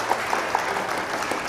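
An audience at a career development program applauds to welcome a speaker, with brief, moderate clapping that sounds a little distant and carries a few sharper individual claps.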